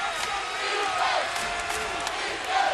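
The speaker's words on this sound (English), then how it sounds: "The crowd here at Loyola Marymount on their feet. It is loud." A college basketball crowd on its feet at Loyola Marymount during a Gonzaga game, a loud, sustained roar of cheering and shouting filling the arena.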